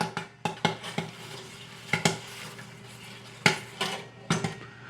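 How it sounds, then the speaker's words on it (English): The metal stirrer inside a Great Northern popcorn machine kettle scrapes and clinks in irregular, sharp metallic knocks close by, over a low steady hum, with no speech. "leave the stirrer going so it can keep on stirring inside of there"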